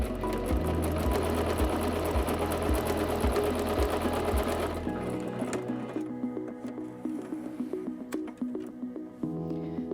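A Singer C5205 sewing machine runs a zigzag stitch at a 3 mm stitch length, chattering in a fast, even rhythm for several seconds before it stops and only faint handling noises remain.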